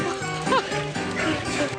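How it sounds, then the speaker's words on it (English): Several St. Bernard dogs at a breeder's home on Lasqueti Island, British Columbia, bark and yip close by in quick, overlapping bursts. "she's kept one from every litter"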